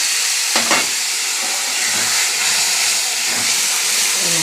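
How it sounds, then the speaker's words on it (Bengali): Water poured into a pan of frying ginger-garlic spice paste for a Bengali bhetki fish dish sets off a loud, steady steaming hiss that fills the whole stretch, with brief clinks and stirring sounds near the start. "এগুলো জল দিয়ে দেবো মশলাটা যাতে না লেগে যায়"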